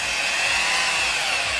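A car polisher runs at its lowest speed while working Auto Finesse Rejuvenate cleaner into paint, a steady close-up whirring drone with no pauses and no talking.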